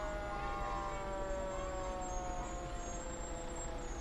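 Fire engine at a Christmas parade, with a steady tonal siren or horn drone held over rumbling engine noise, moderately distant and continuous.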